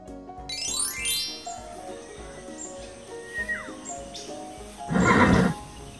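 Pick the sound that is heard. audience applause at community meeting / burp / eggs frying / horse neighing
horse neighing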